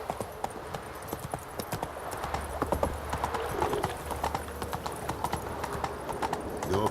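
Galloping hooves of a horse in The Witcher 3 beat in a steady, rapid clip-clop rhythm throughout, fairly close, with a constant low rumble of movement beneath and an occasional faint whinny-like sound.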